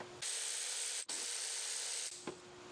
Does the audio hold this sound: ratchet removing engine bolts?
yes